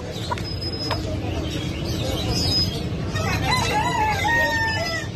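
A Brahma rooster crows and chickens cluck amid a busy, noisy Baghdad animal market with a murmur of voices, the calls fairly close and repeated.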